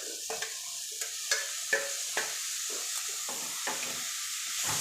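Blanched carrot, cabbage and capsicum stir-fried for vegetable fried rice, a steady close sizzle with repeated scraping and tossing strokes of the spatula in the pan, no voices.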